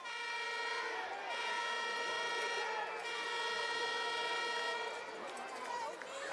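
Air horns blare from fans in the stands at a high school football game between Gate City and Union, loud sustained overlapping blasts lasting several seconds, with a commentator talking beneath them.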